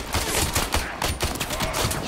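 Gunfire in the video game Warframe, a rapid, loud fusillade of overlapping shots with a dense rhythmic pounding throughout, heard up close.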